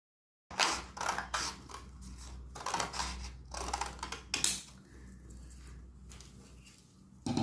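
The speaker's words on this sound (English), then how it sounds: "take a scissor and cut along the marked line" Scissors cutting paper strips along a marked line, a series of close crisp snips and rustling paper, bunched at the start and thinning to quieter handling later.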